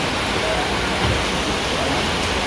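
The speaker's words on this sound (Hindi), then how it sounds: "बारिश लग गई अभी हम वहीं हैं" Steady rain pours down outdoors in Hamirpur, a dense, even hiss that continues unbroken from start to finish.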